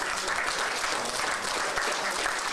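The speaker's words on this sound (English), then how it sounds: "Can we just give another big round of applause to LASA?" Guests at a homeless count press conference give LASA a big round of applause, a thick, continuous wash of clapping that stays steady throughout.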